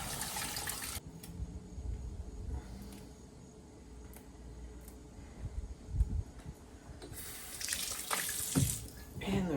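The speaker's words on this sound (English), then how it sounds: "Now I'm gonna go ahead and rinse off." Red grapes are rinsed under a running kitchen tap, water splashing steadily into the sink with louder gushes at the start and end and a quieter flow in between.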